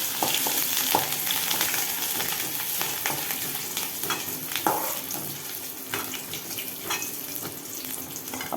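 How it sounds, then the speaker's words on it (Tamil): Spices and grated ginger-garlic fry in hot oil in a wok for a chicken curry, a dense continuous sizzle close up with scattered crackles and pops and occasional stirring scrapes, no voices. "நம்ம டக்குன்னு இந்த ஸ்பைசியை போட்டுடலாம். ஸ்பைசஸை போட்டுட்டு அப்படியே இஞ்சி பூண்டு துருவலையும் போட்டுடலாம்."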